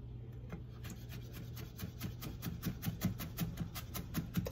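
A knife minces fresh ginger on a cutting board in steady, rapid chops, each cut close and distinct over a low background hum.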